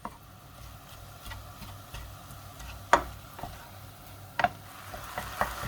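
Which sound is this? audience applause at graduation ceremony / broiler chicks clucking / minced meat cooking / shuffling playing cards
minced meat cooking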